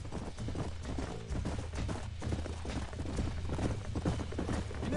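Horses gallop through an outdoor scene in Red Dead Redemption, hooves clip-clopping in a steady, busy rhythm at moderate loudness with rumbling ambience beneath.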